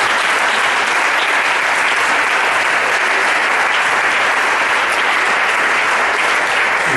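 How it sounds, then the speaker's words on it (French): A church congregation applauds to acclaim the Lord, producing a dense, loud, sustained clapping roar from a large crowd that holds steady throughout without a break. "Est-ce qu'on peut acclamer le Seigneur?"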